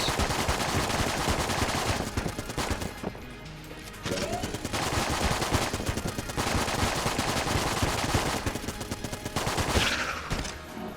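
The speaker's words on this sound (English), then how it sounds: "Mac 10 actually did a pretty good job" Mac 10 machine gun in Enter the Gungeon rattles out dense, rapid bursts of gunfire almost continuously, broken by a few short pauses, loud and close with no talking.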